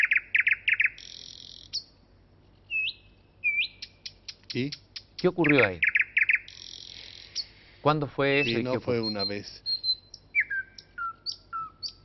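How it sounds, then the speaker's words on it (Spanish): Nightingales singing at night in short bright whistled phrases and trills, repeated close by with pauses between, while people talk in several bursts over them. "El ruiseñor que está sonando ahí es el único pájaro que canta de noche"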